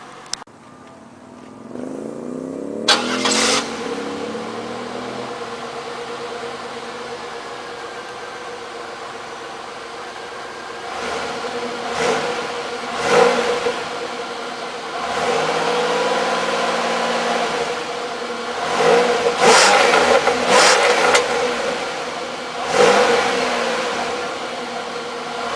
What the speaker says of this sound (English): And now for a little exhaust clip.